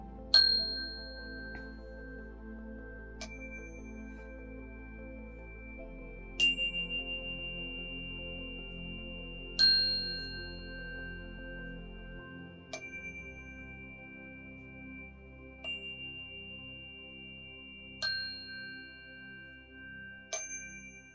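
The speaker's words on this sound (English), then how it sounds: "let me just hit the bell here 8 times to send love" A small bell struck eight times in a slow, uneven rhythm, each bright ding ringing out and decaying over a quiet, low background hum; no talking.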